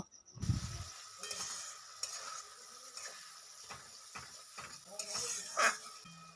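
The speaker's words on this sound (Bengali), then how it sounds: "এটাকেও মশলার সাথে কষিয়ে নেব" Half a teaspoon of Kashmiri chili powder is stirred into spice paste in a pan for a vegetarian paneer kaliya. Soft, intermittent scraping strokes and a faint, light sizzle recur at close range.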